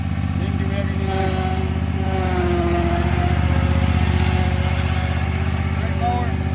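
A cold Spartan RZ-C 42-inch zero-turn mower with its engine running on choke, a loud, close, steady rough drone with a rapid pulsing beat that holds through the whole stretch.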